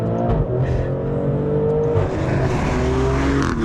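A Maserati Grecale SUV engine revs hard and accelerates, a loud, steady roar rising in pitch through the gears, with no one speaking.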